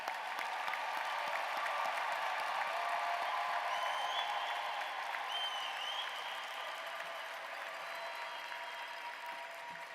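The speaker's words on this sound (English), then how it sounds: "Let us join in tribute with a rousing round of applause for today's promising young doctors." A large commencement crowd at St. George's University's Class of 2023 ceremony gives a sustained, rousing round of applause for new doctors, a dense steady roar of clapping that holds for the full stretch and eases slightly toward the end.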